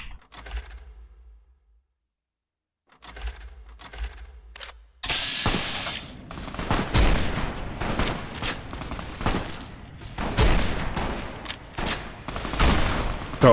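Gunfire in the video game Fallout: New Vegas: after a few quiet seconds, a dense run of sharp shots and impacts crackles on and off, loud and close, with little talk over it.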